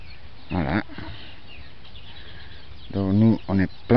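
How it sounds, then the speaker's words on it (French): Chickens cluck on a rural property, a few short bursts of throaty clucking near the start and a cluster of closer, louder clucks toward the end, with quiet ambience in between. "Des poules."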